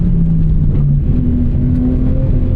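2006 BMW M3 E46 ZCP engine pulling hard out of a track corner, a loud close drone with pitch climbing steadily over a couple of seconds.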